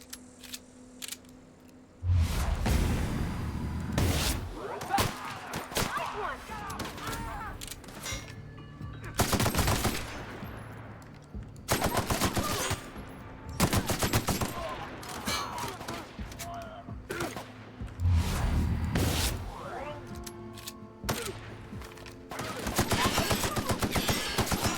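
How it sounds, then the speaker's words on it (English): Machine gun fire in the video game Outer Worlds, loud sustained bursts of rapid automatic shots repeating across the clip, broken by short lulls, with other game sounds between the volleys. "It's a machine gun, Parvati. Hold the trigger."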